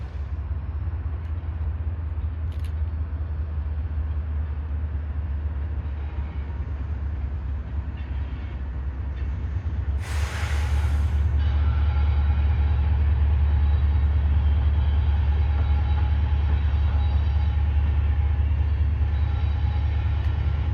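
A long freight train, including a Wisconsin Central boxcar, rolls past on a rail line: a loud, continuous low rumble of wheels and cars that swells and stays heavy, with a brief rushing burst midway.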